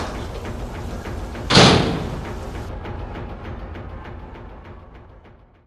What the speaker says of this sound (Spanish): la empujó con el cuerpo entero y la cerró de golpe